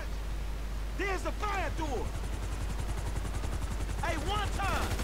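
In the video game GTA 5, a helicopter's rotor thumps in rapid regular pulses beneath bursts of gunfire, with voices talking over the din.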